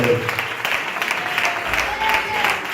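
Steady clapping fills a church as the congregation applauds, dense and continuous, with faint voices under it.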